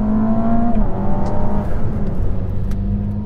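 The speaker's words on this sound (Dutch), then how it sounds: "Ik ga nu gewoon vol op mijn gas staan" Ferrari SF90 Assetto Fiorano pulling hard at full throttle, its engine note climbing quickly with a couple of abrupt shifts in tone, loud and close throughout.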